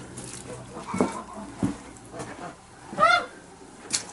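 Geese wandering around a village farmyard give a few short honks, one clear louder call among quieter ones, against faint background noise.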